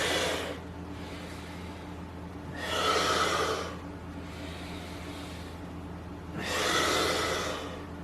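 Slow, audible breathing during a yoga stretch for the hips and lower back, with two long, airy exhales spaced several seconds apart over quiet background hiss, close to the mic.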